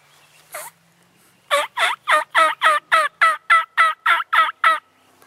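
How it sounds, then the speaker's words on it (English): A wild turkey gobbler calls in the field during a spring hunt: one short note, then a rapid run of about a dozen loud, evenly spaced gobbling bursts, clear against a quiet background. "There's still a gobbler over there."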